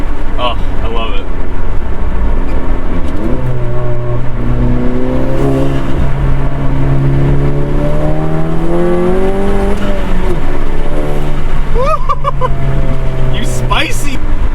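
A Stage 2 EQT-tuned VW Mk7 Golf GTI pulls hard on the highway, its engine note climbing steadily through the revs, loud and close over constant road and wind roar.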